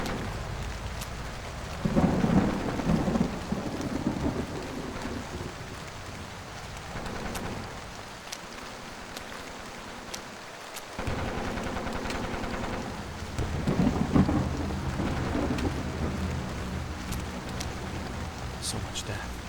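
Rain and rolling thunder from the horror video game Portrait of a Torn, a steady wash of rainfall with several low rumbling swells building and fading, under occasional speech.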